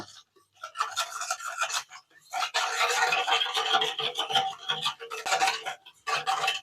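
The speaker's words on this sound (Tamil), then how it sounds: "நல்லா இந்த மாதிரி கிரீமியாக வரதுலையும் அடிச்சுக்கணுங்க" Sugar and fat being beaten by hand in a bowl until creamy for biscuit dough, heard as rapid scraping, rasping strokes in bursts with short pauses, close and fairly loud, with no talking.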